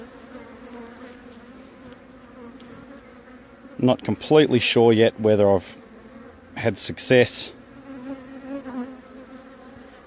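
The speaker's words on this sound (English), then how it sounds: "A lot of bees just resting on top of the box, trying to orient themselves" Honeybees buzzing around a hive box after removal from a fallen tree, a steady drone that swells into louder close passes, while someone speaks quietly over it.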